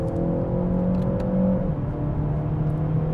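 Peugeot 508 PSE accelerating hard out of a corner, engine note rising with steady whirring drive and road rumble, close and continuous throughout.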